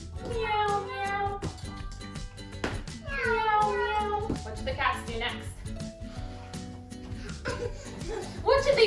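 Adults and children playfully imitate cats with repeated sing-song meows during imaginative play, mixed with laughter and chatter, close and lively.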